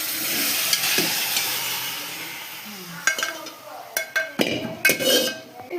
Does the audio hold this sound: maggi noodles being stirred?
yes